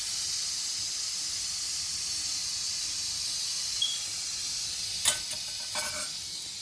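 A pressure cooker with black beans and oxtail lets off its pressure in a steady, faint, high-pitched hiss that continues throughout, with a few small clicks and knocks near the end.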